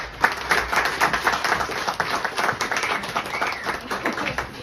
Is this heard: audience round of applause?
yes